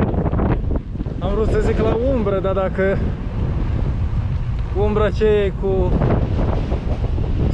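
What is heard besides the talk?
wind blowing while cycling along the Bega river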